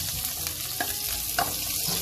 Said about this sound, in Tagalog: Gisahin na natin ang ating sahog. Bahin natin itong sibuyas.